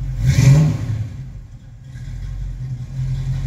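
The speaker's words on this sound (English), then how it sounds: "You want to just blip the throttle quick for these folks?" A 1969 Ford Mustang Mach 1 engine gives one quick throttle blip that surges briefly, then drops back to a steady low idle, heard close by.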